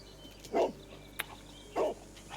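A dog barks twice, well spaced, in the Sherlock Holmes: Crimes & Punishments video game, with a short click between the barks over a quiet low hum.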